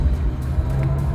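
A BMW i7 electric luxury car in sport mode plays its synthetic drive sound, a steady low rumbling hum with a faint pulsing tone, close and continuous over a brief stretch.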